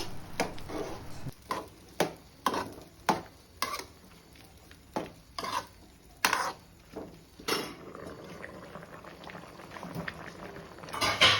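Meal maker soya chunks stirred into boiling curry gravy, a string of sharp spoon-against-pot clanks and scrapes over a steady bubbling simmer, close and fairly loud, with no talking.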